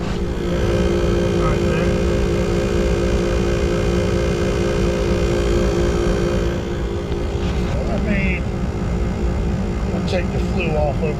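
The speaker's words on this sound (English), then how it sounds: "Going to sound like an inducer problem" A faulty furnace combustion inducer motor runs with a loud, steady droning hum and rattle, while someone speaks briefly over it.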